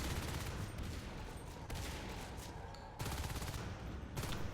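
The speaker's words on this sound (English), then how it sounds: "Pell-Mell now feeling the sting of these shotguns." Dense, continuous gunfire from shotguns in the Natural Selection 2 video game, a rapid barrage of overlapping blasts that keeps up throughout with little pause and no talking.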